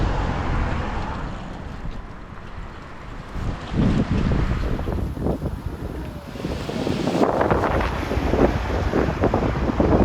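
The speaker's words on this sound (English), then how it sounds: "Bloody hell, it's windy. This wind is mad." Strong wind buffets the microphone in heavy, uneven gusts on a street walk in Widnes, roaring loudly and rising and falling throughout, with no voices.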